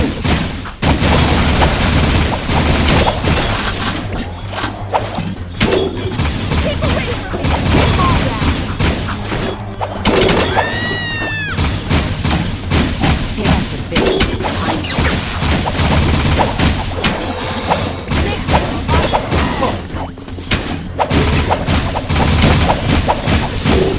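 Rapid gunfire rips through a fight against metalheads in Jak II, loud and sustained bursts of shots mixed with booming impacts and mechanical clatter, with voices calling out between the volleys.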